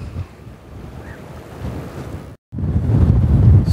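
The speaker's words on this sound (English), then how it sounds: "Actually looks like a little beach there, especially with the wind blowing the water." Wind blowing over choppy water at a small lakeside beach, a steady broadband rush with heavy microphone buffeting, a brief dropout near the end, then louder gusting.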